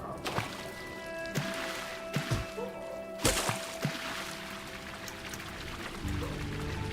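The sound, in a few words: character dashing through water in the video game Silksong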